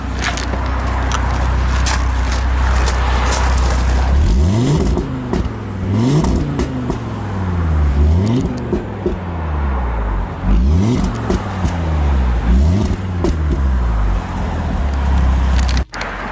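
Audi RSQ3 2015 five-cylinder, 340 hp, revved repeatedly from idle in dynamic mode, loud exhaust rising and falling in about seven blips recorded close to the tailpipe.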